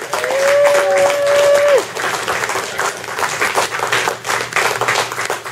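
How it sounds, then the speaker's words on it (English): Audience at a BC writers' membership drive gives warm applause welcoming author Ian Weir, a full burst of many hands clapping that starts loud with a sustained tone over it, then continues in steady clatter. "Let's have a big round of applause, big, warm round of applause for the amazing, the sensational Ian Weir"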